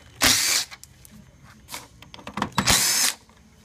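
A power drill backing T30 bolts out of the top of a 2006-2008 Audi A4 2.0T bumper, two loud close whirring bursts with quieter clicks and handling noises between them.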